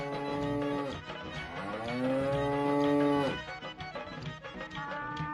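A cow or calf mooing nearby: one long, drawn-out, tonal moo that rises and then falls, followed by a shorter, rougher call, with no speech.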